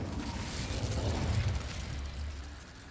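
Incendio fire spell cast in Hogwarts Legacy, a rumbling, whooshing burst of flame that swells for about a second and a half and then fades into a lower hiss.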